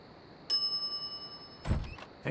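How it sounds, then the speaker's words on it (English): A shop counter bell is rung in The Secret of Monkey Island: one clear metallic ding that rings on and slowly fades, followed by a shorter clattery knock, quiet and alone. "some idiot's already ringing that stupid bell"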